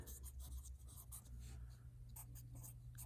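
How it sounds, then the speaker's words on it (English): A pencil sketching quick lines on paper, a series of soft scratchy strokes in short bursts close by, over a low steady background hum. "Sketching is quick lines that are not intended to be a part of our finished drawing."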